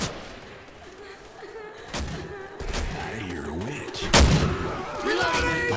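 Gunfire and impact thuds in Left 4 Dead 2 during a co-op campaign run through a park, with a sharp loud burst near the middle and scattered shots and booms around it, mixed with game noise and voices.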